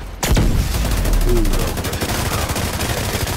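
Rapid gunfire in The Division 2, a loud burst opening with a sharp blast and continuing as a dense, steady stream of shots to the end.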